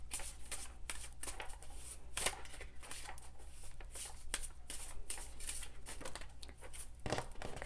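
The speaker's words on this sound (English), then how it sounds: "Okay, let's shuffle several times." A deck of tarot cards is shuffled repeatedly at close range, crisp riffling bursts and soft slaps following one another in an uneven rhythm for several seconds, with no talking.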